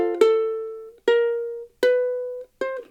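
Ukulele closing a song's ending line in octaves: four bright plucked double notes, each ringing and decaying before the next, close and clear with no talking.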